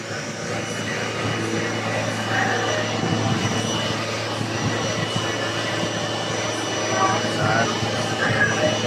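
A Toyota Fortuner 2017 with a 2GD-FTV diesel engine runs steadily nearby with a continuous droning whir, and people talk over it.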